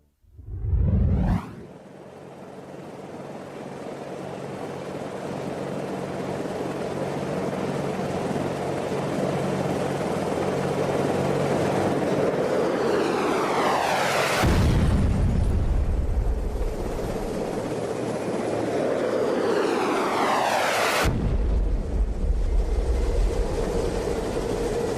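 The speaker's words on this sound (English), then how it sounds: "The chopper sent to collect me was brought down" A helicopter shot down in the video game Velocity, with a sharp blast followed by a long roaring, crackling rumble and two more sweeping explosive bursts, loud and alone with no voices.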